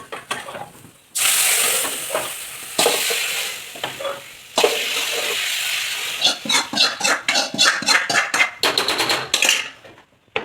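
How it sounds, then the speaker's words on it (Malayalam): Mustard seeds, dried red chillies, shallots, curry leaves and coconut roast in a hot pan, hissing loudly in long bursts, then a quick run of rhythmic scraping and stirring strokes. "കടുക്, വറ്റൽമുളക്, ചെറിയുള്ളി, വേപ്പില ഇതെല്ലാം കൂടെ ഒന്ന് മൂപ്പിക്കുക."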